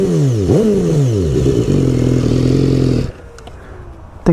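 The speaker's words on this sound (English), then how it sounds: "Listen to this exhaust." A 2016 BMW S1000R motorcycle on its stock exhaust revs up close, its engine note sweeping up and down and then settling into a steady idle, followed by a quieter pause and a sharp clatter at the end.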